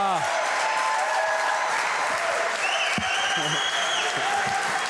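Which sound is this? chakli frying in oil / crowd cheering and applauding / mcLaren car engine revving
crowd cheering and applauding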